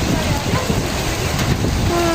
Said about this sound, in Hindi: इतनी तेज़ बारिश है बिन्ने।